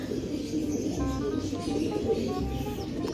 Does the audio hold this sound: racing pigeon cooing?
yes